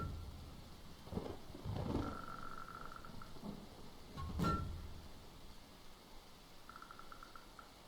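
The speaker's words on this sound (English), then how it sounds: "this was a rough day to get this storm" A rainstorm in the video game Dead in Vinland, steady rain noise with a few low thunder-like rumbles and brief tonal game sounds, moderately quiet and unbroken across the clip.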